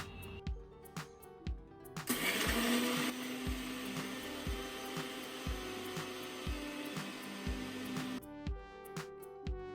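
An electric grinder whirs loudly for about six seconds as it powders sugar with cardamom pods and a clove. Quiet, evenly spaced ticks come before and after the run.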